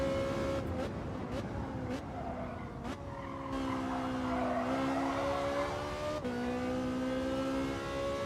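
A Gr.3 race car engine revs steadily through a lap in Gran Turismo, a loud sustained whine with gear-shift dips and brief tire squeal, heard close from the cockpit with no talk.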